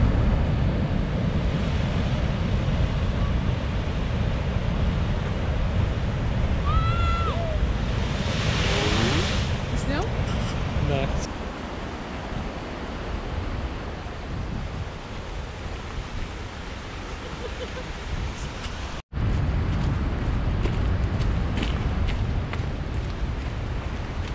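Ocean waves break on a beach on the Oregon coast near Newport, a loud continuous roar of surf with wind buffeting the microphone throughout.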